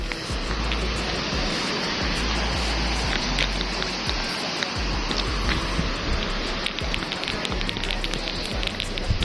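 Rough, dark sea washes steadily around a small fishing boat, a dense continuous roar of waves and spray heard up close with no talking.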